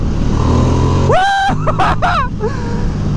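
A Ducati XDiavel motorcycle engine in sport mode rises under throttle in close, loud sweeping revs, dipping and climbing again in a few quick surges over a rumbling idle.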